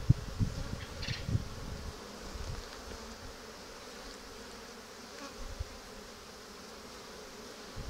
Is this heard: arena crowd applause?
no